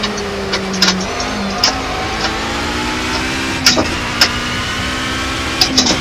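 A racing car engine in the video game Project Cars drones with rising and falling pitch as it shifts gears, punctuated by sharp clicks and taps, no talking.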